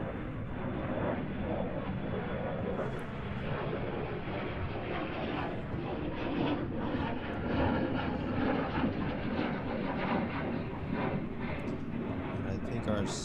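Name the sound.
KLM Airbus A321neo jet taking off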